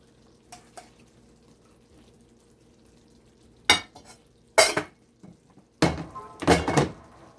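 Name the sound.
serving beef and broccoli stir fry onto rice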